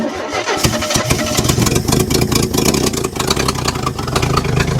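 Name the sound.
1974 AMC Javelin engine starting after 30 years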